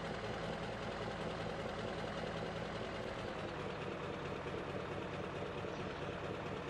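Old boxy tractor engine idling in Farming Simulator 2017, a steady low rumbling drone with a faint knock, constant and fairly loud throughout with no talk.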